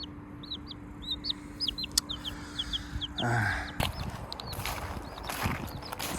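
Repeated high chirps and clucks from young birds, steady and close, with a brief thump and rustle partway through.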